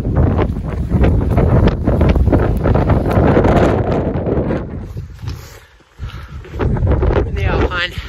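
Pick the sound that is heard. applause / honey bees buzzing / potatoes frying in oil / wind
wind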